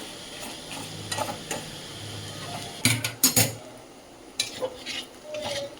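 Fenugreek seeds and mango pieces fry in sunflower oil in a pan, with a few scrapes and metallic clinks from a stirring spoon over a soft, steady sizzle. No one speaks.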